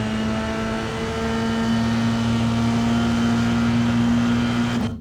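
A Formula 3 race car accelerates hard on a hot lap at Phillip Island, its engine a loud steady drone that climbs in pitch through the gear and then drops away abruptly at the end.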